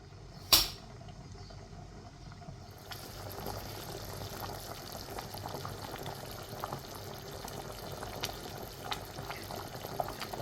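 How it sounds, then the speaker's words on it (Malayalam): Traditional butter chicken gravy with cashew paste simmers in a pot on the stove. A single sharp knock comes near the start, then faint, steady bubbling continues quietly and close by. "പിന്നെ നമുക്ക് ഇനി തിള വരാൻ തുടങ്ങും."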